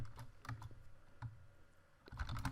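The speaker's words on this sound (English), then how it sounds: "So let's type something." Quiet typing on a computer keyboard, scattered key taps in an uneven rhythm with a denser burst of keystrokes at the end, close and soft with no talking.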